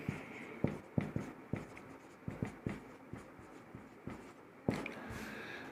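Chalk or pen writing on a board in a physics lecture produces quiet, irregular taps and short strokes, about a dozen over several seconds, against faint room noise.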